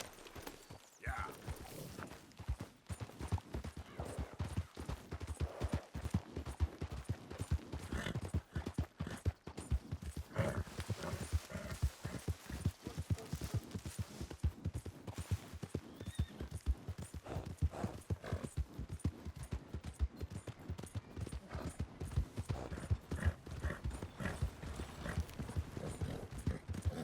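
Horse hooves clip-clop steadily on the ground in Red Dead Redemption 2, a close, rhythmic trot continuing throughout with faint ambient game sounds and a brief voice.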